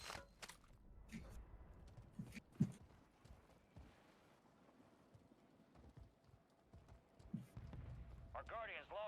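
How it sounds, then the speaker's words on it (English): In Modern Warfare 3 on the Fortune's Keep map, nearby footsteps thud unevenly across several seconds as voices talk over them amid game noise. "I hear footsteps close"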